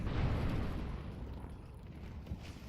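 Grenade explosion in the video game Counter-Strike 2 during a competitive match: a heavy, rumbling blast that fills the clip from the start and slowly decays, with no talk over it.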